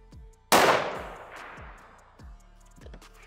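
A single loud, sharp gunshot from a Ruger Precision Rifle in 6.5mm Creedmoor at an outdoor shooting range, a sudden broadband crack followed by a long decaying echo, with faint low thumps in the background.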